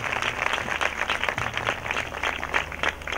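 An audience at a church shrine festival on Manginapudi beach claps for the guests, a dense, sustained burst of many hands that swells and holds steady.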